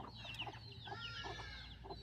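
Several farm chickens cluck and murmur nearby in short, soft bursts, with faint background hum beneath them.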